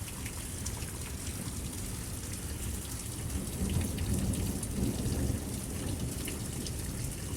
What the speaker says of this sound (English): We're just having ourselves a beautiful thunderstorm here.